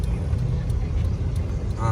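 A 1994 Chevrolet C1500 pickup with 3.08 gears drives up onto the highway, its engine and road noise a steady low rumble from inside the cab, with someone talking over it.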